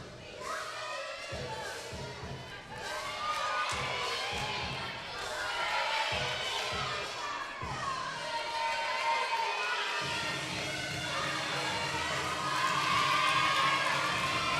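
A gymnastics meet crowd, teammates cheering on a gymnast's floor routine, a steady wash of shouts and cheers with scattered thumps from the floor, and voices talking through it.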